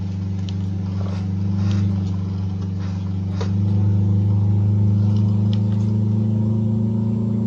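Peterbilt 351 truck engine in Euro Truck Simulator 2, a loud steady low drone that rises in pitch and strength midway as it revs, alone without talk.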